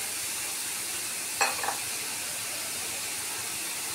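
Onions, turmeric and salt frying in a pan for onion chutney, a steady broad sizzle with one brief stirring scrape in the middle.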